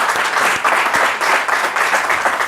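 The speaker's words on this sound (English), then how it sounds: "Round of applause for Amy." Audience applause at a talk on data and Canadian prosperity, loud, dense and steady clapping from a crowd, sustained evenly for a couple of seconds with no voices over it.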